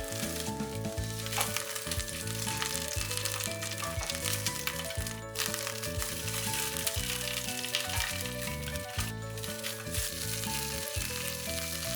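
Italian sausages browning in a frying pan give off a continuous, crackling sizzle with rapid little pops, close and steady throughout, with no voices.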